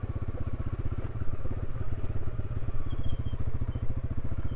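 Dirt bike descending a mountain dirt trail in California's Sierra, its engine a steady, close, pulsing putter with clatter throughout and no talk.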